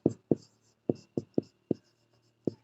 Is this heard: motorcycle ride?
no